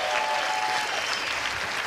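Steady audience applause after a live demonstration, dense and even clapping filling the space throughout with no break.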